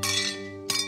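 Glasses clink together during a wedding toast to the newlyweds, with a bright ringing strike at the start, a sustained shimmering tone, then a second clink near the end.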